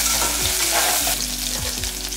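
Mustard seeds, cumin, garlic and green chillies sizzle steadily in hot oil for moong dal kadaisal, with a spatula scraping the pan several times over the continuous frying hiss.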